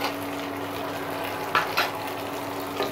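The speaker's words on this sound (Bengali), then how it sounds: "এখন আদা রসুন পেস্টটাকে আমি একটু ভালোভাবে ভেজে নেব" Ginger garlic paste frying in hot oil in a pan, a steady soft sizzle throughout with a couple of brief stirring bursts near the middle and end.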